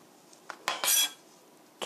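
A knife slices an onion thinly on a cutting board, making a few quick, soft cuts and clacks up close, with one brief scraping burst in the middle and no speech.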